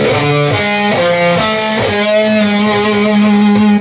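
An overdriven electric guitar plays a short lick of picked notes, ending on a long held note that bends and wavers with vibrato, loud and close.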